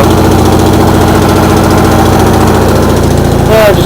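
A lawn mower engine starved of fuel runs rough and labors, a loud steady uneven drone that stumbles near the end, close up with no talk.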